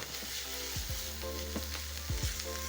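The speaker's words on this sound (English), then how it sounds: "As the onions are softening up, I'm going to be adding in garlic" Garlic cloves sizzling and frying in a pan among softening onions, a steady close hiss with a few scraping stirs, no voices.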